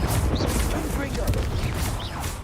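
Confringo fire-blast spells in the Hogwarts Legacy video game, dense booming explosive bursts layered over one another in a continuous loud barrage with a voice speaking.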